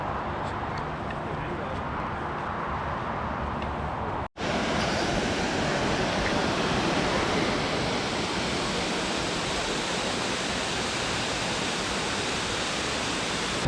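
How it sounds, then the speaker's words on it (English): Steady, loud rushing water of Multnomah Falls in Oregon's Columbia River Gorge roaring continuously, with a brief dropout a few seconds in before the roar resumes at full strength. "we're at the second waterfall, Multnomah Falls"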